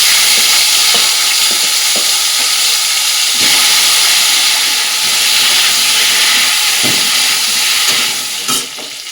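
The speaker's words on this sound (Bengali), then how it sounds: "ওই তেলের মধ্যে দিয়ে দিলাম কালো জিরে" Black cumin seeds sizzle loudly in hot oil, a dense, steady hiss with occasional crackles and a few faint utensil knocks, no voices.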